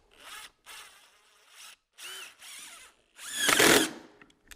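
A power drill drives screws into metal purlin holders on a modern pergola kit in short bursts, whirring and squealing several times before a louder final tightening burst.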